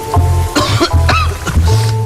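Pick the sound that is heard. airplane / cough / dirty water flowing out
cough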